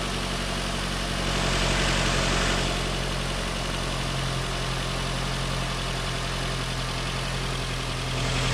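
A Nissan Rogue engine idles steadily after a coil pack and spark plug replacement, giving a constant, even low hum with a faint rise and fall, close and continuous with no voices.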